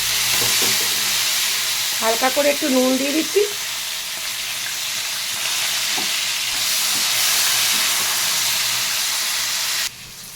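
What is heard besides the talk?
pumpkin stems and potatoes frying in oil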